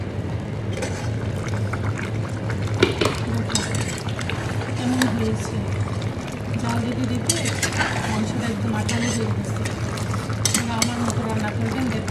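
Beef curry in a pot is stirred and fried continuously, giving a dense, steady sizzle with bubbling and repeated spoon scrapes up close. A voice is faintly present in the background.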